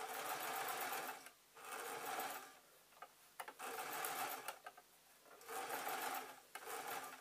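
A sewing machine stitches fabric for an owl appliqué project in four steady, close bursts of rapid whirring, separated by short pauses while the fabric is turned.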